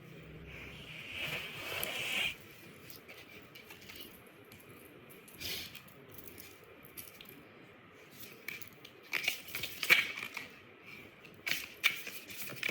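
Oracle card deck being shuffled by hand, soft papery riffles and shuffling bursts near the start, then scattered crisp card flicks and taps later, fairly quiet with no talking.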